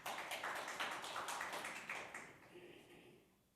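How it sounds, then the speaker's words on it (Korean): Quiet, scattered clapping from a youth forum audience, a few distinct hand claps fading out over a few seconds, with faint voices underneath. "큰 박수 부탁드립니다."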